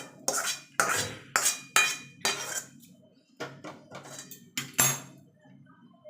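A pot of boiled mung dal, cooked for a fish-head dal, is lifted off the stove with a run of sharp metallic clanks and scrapes, about eight close, fairly loud knocks spaced irregularly, with no talking.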